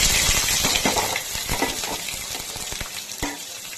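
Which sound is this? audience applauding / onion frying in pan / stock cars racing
onion frying in pan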